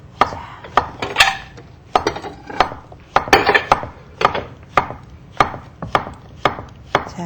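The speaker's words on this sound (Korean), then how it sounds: "자, 가지런히 이렇게 잘라주시면 되고요. 네, 반달로 예, 5mm요." A kitchen knife slices food into 5mm half-moon pieces on a cutting board, giving a steady series of crisp, evenly spaced chops close by.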